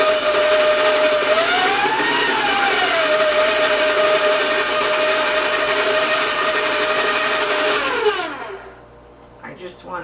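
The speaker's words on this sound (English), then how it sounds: "I'm going to turn the mixer on and to get it slowly to break up the butter and the shortening" An electric stand mixer runs steadily on low, beating butter and shortening for giant sugar cookies, with a loud, close motor whine that shifts slightly in pitch before switching off near the end.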